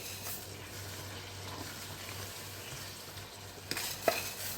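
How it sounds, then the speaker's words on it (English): Rice being stirred into Catalan chicken in a frying pan gives a soft, steady scraping and faint sizzle, with a few louder clatters near the end. "Now give it a stir, another stir, mix very well with the rest of the ingredients."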